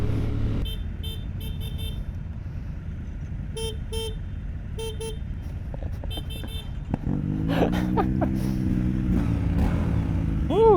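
A Triumph Scrambler 1200 motorcycle engine drones steadily at close range, with a few brief tonal beeps early on, then its revs climb and rise in pitch during the last few seconds.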